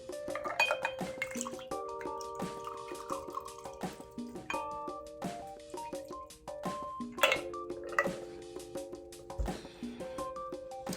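A cocktail is poured into a smoked glass at home, with trickling liquid, drips and bright glassy clinks and ringing pings scattered irregularly throughout, fairly close and quiet.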